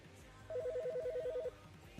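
A telephone ringing in a video game, one quick warbling trill of rapid alternating electronic tones, about a second long, fairly faint over a quiet low background.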